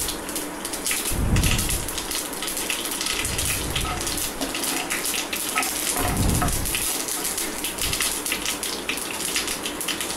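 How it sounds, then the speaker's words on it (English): Mustard seeds spluttering and crackling in a tablespoon of hot oil in a pan while making potato curry, a steady dense sizzle with louder popping bursts throughout. "Heat 1 tablespoon of oil in a pan and splutter 1 teaspoon of mustard seeds."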